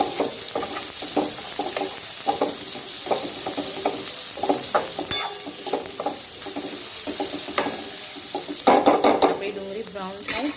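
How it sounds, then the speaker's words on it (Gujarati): Finely chopped onions sauté in hot oil in a pan, giving a steady close sizzle and hiss. A spoon stirs and scrapes now and then, and a louder scraping flurry comes near the end. "એ ડુંગળી નાખી દઈશું અને ડુંગળી આપણે બ્રાઉન થાય ત્યાં સુધીને એને સાતળી લઈએ"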